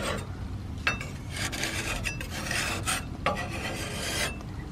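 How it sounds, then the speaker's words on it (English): A spatula scrapes caked mud off a truck frame, rough rasping strokes in several bursts with short pauses between, close and fairly loud with no talking. "I have the spatula here, and if I just lightly scrub like that, it just comes off"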